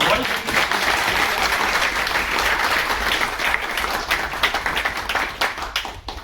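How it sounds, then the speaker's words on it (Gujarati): An audience at a government order-distribution ceremony claps loudly and continuously, a dense crowd applause that carries on for several seconds and thins slightly toward the end. "તો એકવાર જોરદાર તાળીઓ."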